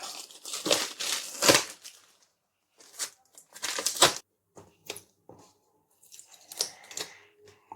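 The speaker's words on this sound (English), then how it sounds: "let me go ahead and unbox this using a pencil" Cardboard packaging for a BluArmor C20 intercom being torn and crinkled open with a pencil, close and loud, in several short bursts of ripping and scraping separated by brief pauses.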